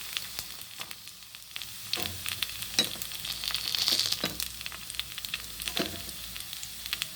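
Aval kuzhi paniyaram batter, made with flattened rice, sizzles steadily in a paniyaram pan, a close continuous hiss with scattered crackles and small clicks throughout, no voices.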